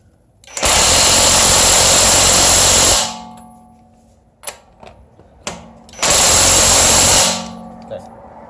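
A handheld power tool, likely a cordless drill-driver or impact driver, tightening a fastener at high speed in two loud, steady whirring runs of a few seconds each, separated by brief clicks and handling knocks.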